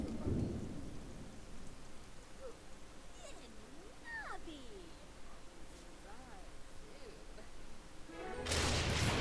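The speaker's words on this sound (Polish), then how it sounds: "Akurat taki piorun walnął tu w grze" A thunderstorm in a video game with steady rain throughout, a loud crashing thunder strike bursting in at the start and again at the end, while a person talks over it.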